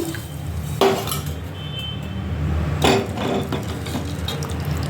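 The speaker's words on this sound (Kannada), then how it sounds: "ಇವಾಗ ನಮಗೆ ಸಾಂಬಾರಿಗೆ ಎಷ್ಟು ಬೇಕೋ ಅಷ್ಟು ನೀರು ಹಾಕೋತಿದ್ದೀನಿ" Water poured into a pot of horse gram sambar, with two splashy pouring bursts rising over a steady low kitchen hum, close and fairly loud.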